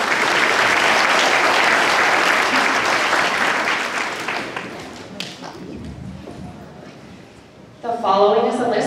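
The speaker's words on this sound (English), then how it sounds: "A round of applause." A school assembly audience at a Veterans Day event breaks into loud, dense applause that gradually thins and fades to scattered claps, then a voice starts speaking near the end.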